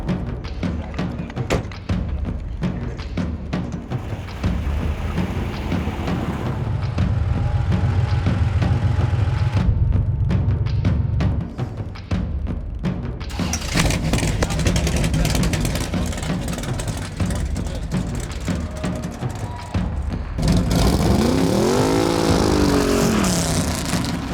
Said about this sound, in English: Do a little burnout too